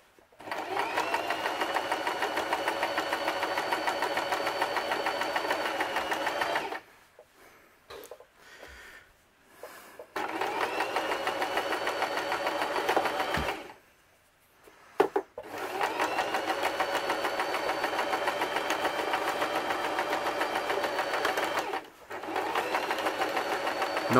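An electric sewing machine stitches a fabric Viking-style hood in steady, loud runs of fast needle hum, with a few short pauses where it stops; no one speaks.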